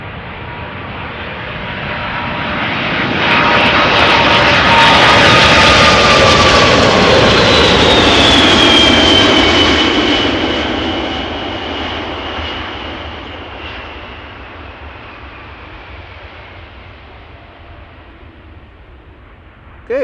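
A Cargolux Boeing 747 arriving at Amsterdam Schiphol on runway 06, its jet roar swelling over several seconds to a loud, broad peak as it passes close, then slowly fading into the distance.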